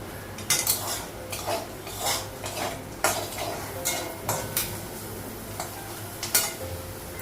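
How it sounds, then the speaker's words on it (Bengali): A lid is lifted off a frying pan of bitter gourd, bringing a metallic clink and scrape over a continuous sizzle, with utensil clatter recurring close by. "ঢাকনাটা উঠালাম"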